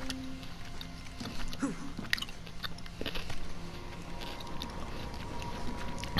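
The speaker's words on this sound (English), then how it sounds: "I'm still munching on cucumbers." Cucumbers are munched close to the mic, with a few crisp bites and soft chewing over a steady background hum.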